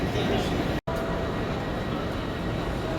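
Train at a station in Germany on the way to Munich, a steady broadband rumble throughout with a brief dropout near the start, a voice faintly mixed in.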